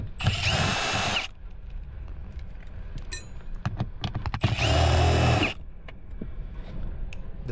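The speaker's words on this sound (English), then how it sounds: "Unscrew those two screws." Short bursts of a power screwdriver driving out the Phillips screws on a 1997-2001 Toyota Camry sun visor, two loud whirring runs of about a second each, with small clicks and handling noises between them.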